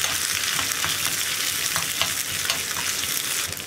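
Round-cut onions fry in a hot pan for banana pachadi, giving a steady, dense sizzle with faint crackles throughout, close and fairly loud, with no voices.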